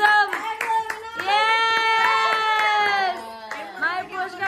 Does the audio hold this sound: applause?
yes